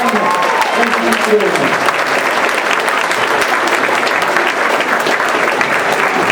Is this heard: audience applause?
yes